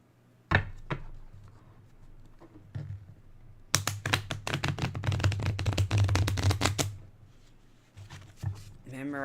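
A few sharp taps, then a rapid burst of riffling as a Labradorite tarot deck is shuffled for a few seconds, close up, with a voice briefly at the end.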